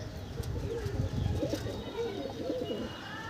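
Pigeons coo steadily in a loft, their soft rolling calls overlapping close by, with a few chirps and a faint murmur of voices underneath.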